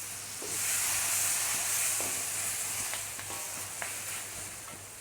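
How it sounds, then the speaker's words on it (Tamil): Green chillies and tomatoes sauté in a pan for a chicken tamarind masala gravy: a soft hissing sizzle with light scattered ticks of stirring, fairly quiet and without talking. "கொஞ்ச நேரம் இந்த வெந்நிலே இதை நல்லா வதக்கிக்கலாம் ஃப்ரெண்ட்ஸ்"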